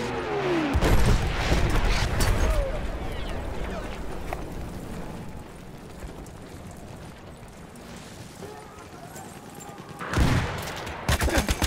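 Battlefield 1 infantry combat with dense bursts of rapid gunfire and booming blasts, loud and continuous, easing to a quieter rumble midway before another heavy volley near the end.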